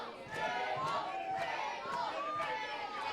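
A wrestling crowd at a Canadian indie show shouts a rhythmic chant, calling for tables. Voices rise in repeated bursts about every half second, loud and close, with chatter beneath.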